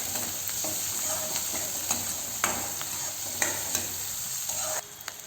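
Sliced onions and garlic sauté in a pan with a soft continuous sizzle heard close by, punctuated by regular scraping stir strokes, before the sound drops abruptly near the end.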